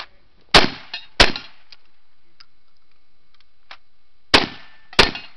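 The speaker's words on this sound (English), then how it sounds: "His shotgun." A few sharp, loud shotgun blasts and metallic clangs at a shooting match stage, separated by near silence, with two shots early and two more close together near the end.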